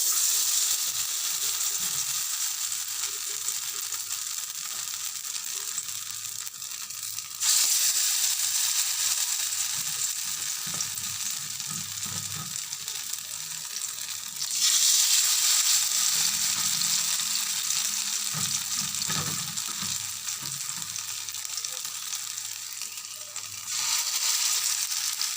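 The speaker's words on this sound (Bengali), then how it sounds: "এবার এক পিঠ ভাজা হলে আরেক পিঠ উল্টিয়ে দেবো।" Gima greens fritters frying in a thin layer of hot oil, a steady close sizzle and hiss that surges louder at intervals, with no talking.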